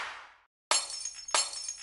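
Two sharp glass-shattering hits used as a sample for a dubstep snare, each a loud crash with ringing shards, spaced about half a second apart after a short fading sound and a silent gap.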